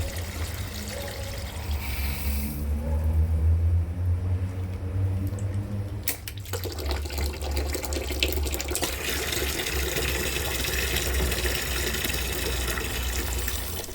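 Water flows steadily through a Parkside garden water meter with a continuous rushing hiss, its strength dropping and building again as the pressure changes, with no voices.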